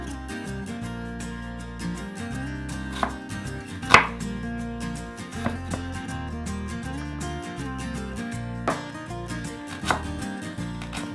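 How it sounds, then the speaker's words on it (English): Chilies are cut into smaller pieces on a board, giving a steady run of close, crisp knife chops with a few louder strikes, alone with no talk. "I'm just going to cut these chilies into smaller pieces so that I can blend them easily."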